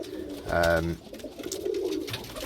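Pigeons give one clear resonant coo close by, followed by softer murmuring and shuffling, with some voice-like sounds in the background.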